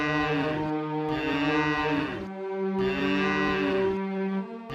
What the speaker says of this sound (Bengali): আমাদের গরুটা খুব ডাকাডাকি করছে